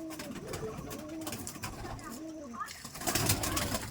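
Madras pigeons cooing in repeated soft, rolling calls close by, with a quiet voice speaking in the background.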